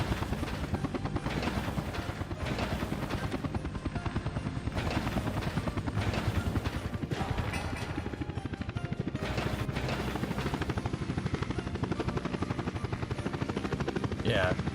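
Helicopters in the city-building game Workers and Resources give a continuous rotor drone with rhythmic blade chop, steady and moderately loud across the whole stretch with faint speech-like sounds at times.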